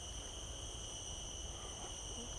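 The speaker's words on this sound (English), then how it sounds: "the cicadas are out in force" A steady, high-pitched insect drone of cicadas hums continuously in the background on Coney Island, Singapore, faint and unchanging, with no voices.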